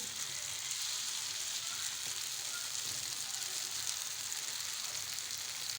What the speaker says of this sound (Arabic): هيا ندير في البوراك باين نقلي معاكم خواتاتي